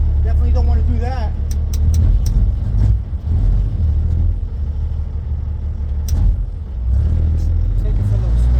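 An old Peterbilt truck rumbling as it pulls away for a short spin, its deep engine loud and close while someone talks over it.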